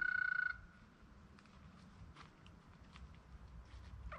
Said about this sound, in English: Big green frogs.